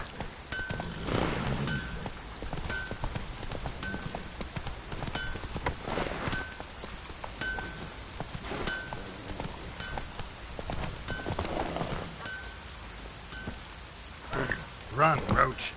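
Roach, the horse in The Witcher video game, gallops with rhythmic, repeated hoofbeats close up, over a wet, rain-like background patter, with a louder flurry of thuds near the end.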